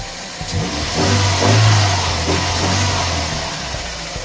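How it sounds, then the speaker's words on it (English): A Toyota Corolla AE111's 4A-FE engine runs at a high idle, a steady low hum that swells briefly as if blipped and then settles back, heard up close with no talk. "This engine idles pretty high when fully warmed up."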